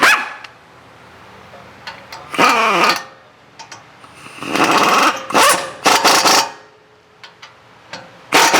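Small puppy giving short, loud yappy barks and growls in irregular bursts with quiet pauses between them, close to the microphone.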